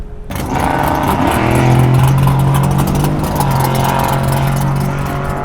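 A Tesla Model 3 electric car accelerates hard on a drag run, its pitch climbing steadily and loud throughout with no talking.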